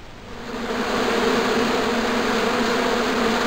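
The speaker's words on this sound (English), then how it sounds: "Now I knew why that bush was buzzing." Hornets buzz steadily in a bush in the Broken Sword II adventure game, a dense continuous drone that swells in over the first second and then holds loud and even, with no talk.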